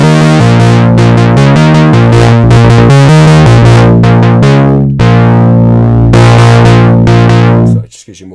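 Moog Sub 37 synthesizer with its feedback drive engaged, playing a loud, thick, gritty sequence of sustained bass notes that shift in pitch, cutting off abruptly near the end.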